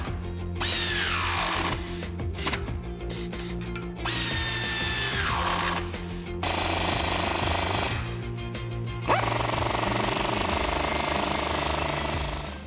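A power tool, likely an impact or ratchet driver with a 15mm socket, tightens Flowmaster Force II exhaust clamps on a 2005-2009 Mustang V6, several loud buzzing bursts with whining pitch sweeps and short pauses between them.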